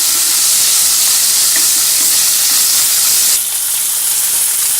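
Onion, ginger and garlic sauté in hot oil for Chettinad mutton and jackfruit seed masala, with a loud, dense, continuous hiss of sizzling close up that briefly dips then carries on, no voices.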